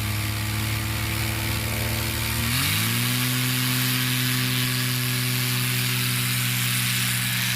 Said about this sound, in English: That new engine sounds pretty hefty.